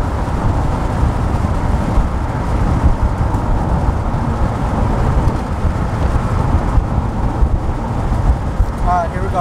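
A 1987 Corvette C4 Convertible driving and taking turns, a steady loud low rumble of engine and road noise throughout, with a person talking over it.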